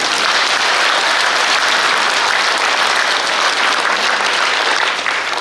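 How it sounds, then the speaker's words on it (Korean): An audience at a commemoration ceremony applauds steadily and loudly for several seconds, a dense wash of clapping with no pauses or talk. "박수 한번 쳐주세요"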